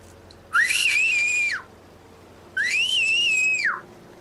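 Two long, loud human whistles with a rising then falling pitch, separated by a short pause, alone against a quiet background.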